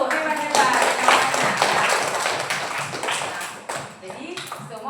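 A classroom of students clapping together at a teacher's prompt, a dense, loud burst of hand claps mixed with chatter and voices, easing off near the end.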